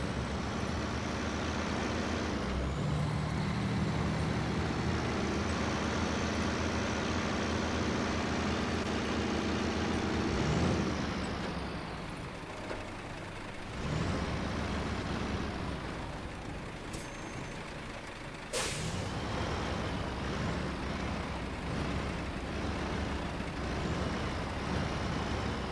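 A heavy truck in the SnowRunner off-road driving game backs a trailer, with a steady loud diesel drone and engine pitch changes, a brief dip, then a sharp air-brake hiss before the engine resumes.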